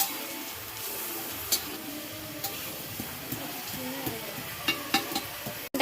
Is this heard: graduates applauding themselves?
no